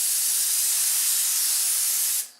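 An airbrush sprays brownish orange paint in a steady, loud hiss that runs unbroken and close by, then cuts off sharply near the end.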